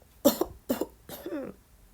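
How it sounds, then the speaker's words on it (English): Three close coughs in quick succession, the last one drawn out and raspy, with quiet in between. "adding a cough at the end to prove the point"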